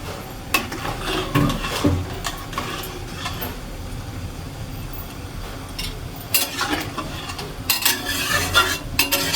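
A tamarind fish curry sizzles in a pot after water is poured in. A steady bubbling hiss sits close by, broken by sharp clinks and scrapes of a utensil against the pot, with no talking.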